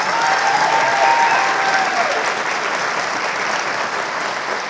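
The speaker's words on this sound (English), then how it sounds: "that deserves a round of applause" Audience applause from a crowd at an event celebrating a hot dog business, dense and steady clapping filling the space for several seconds without talk.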